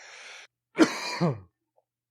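A cough followed by a rough throat clearing, close and isolated, with a short burst of hiss just before and silence after.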